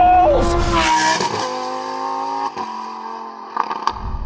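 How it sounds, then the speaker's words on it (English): A Lamborghini Huracán STO's naturally aspirated engine revs hard and loud, its pitch climbing through quick gear changes with brief breaks between pulls, then settling into a steadier, lower drone. "Beautiful, responsive, naturally aspirated engine."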